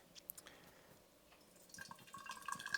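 Warm papaya syrup trickles faintly into a bottle, with soft dripping and a gentle pouring sound that grows a little louder toward the end.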